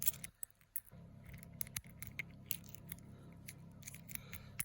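A pin tumbler lock being worked with jiggler keys, giving a series of sharp metallic clicks and taps at irregular intervals, close up and with no talk.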